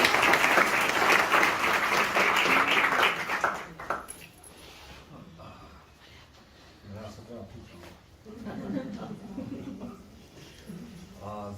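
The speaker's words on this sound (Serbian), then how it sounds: "takođe bih vas zamolila za jedan lep aplauz da pozdravimo našeg dragog gosta" A lecture audience in Novi Sad applauds to welcome a guest speaker. Loud, dense clapping lasts about four seconds, then drops away into quieter room noise.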